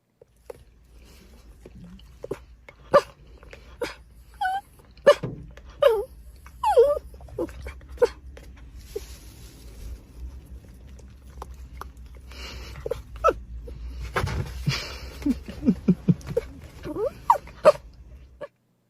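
A hungry dog whimpers and yips for food in short, repeated bursts with chewing sounds, close by, while a person speaks intermittently in the background.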